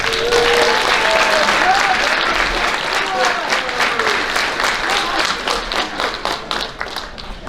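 Audience applause at a high school athletic banquet: dense, loud clapping from a crowd with voices murmuring underneath, holding steady before thinning into scattered claps toward the end.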